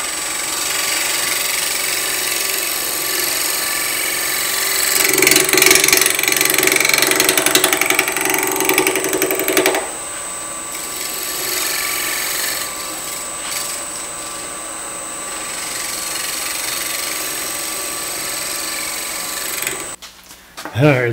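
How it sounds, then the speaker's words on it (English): Wood lathe spinning a salt cellar blank at 1400 RPM, a continuous close whine and motor drone with steady tonal hum, louder and rougher in the middle as the tool cuts, with a voice speaking over it. "Turn my lathe speed up a little bit."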